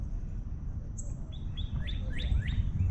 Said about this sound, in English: I'm gonna show you this little bird over here, this red bird.